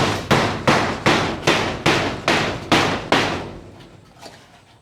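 A hammer strikes metal in a fast, even series of about eight loud, ringing blows while nails are pulled out of corrugated iron roofing on a piggery, then a few fainter knocks follow.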